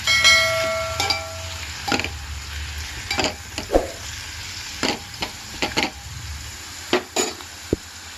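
Coriander leaves sizzle in a hot pan while a spoon stirs them, with a soft frying hiss underneath repeated scraping clinks and taps of the utensil against the pan, and no voices.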